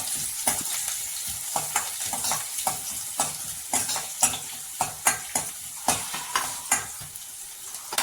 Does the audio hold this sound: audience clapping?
no